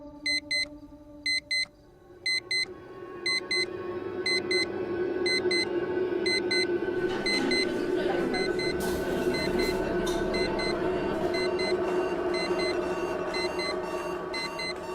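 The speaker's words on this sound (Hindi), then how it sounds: "अदिति मैम, मैं कब से ट्राई कर रही हूँ, ये अलार्म बंद ही नहीं हो रहा है।" An alarm beeps in repeated rapid bursts, loud and close, then keeps ringing without pause under a rising steady electronic drone, never stopping.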